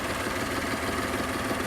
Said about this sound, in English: It's just me running the car because I don't want the engine to die.